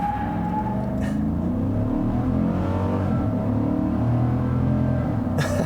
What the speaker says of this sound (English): it has enough power to spin out the rear wheels